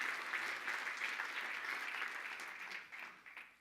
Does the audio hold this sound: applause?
yes